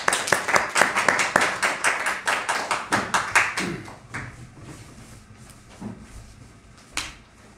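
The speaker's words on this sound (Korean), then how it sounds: "우리 하나님께 영광의 박수 올려드리겠습니다" A church congregation claps in a steady rhythmic burst that thins out after about four seconds, followed by scattered isolated claps and soft room noise.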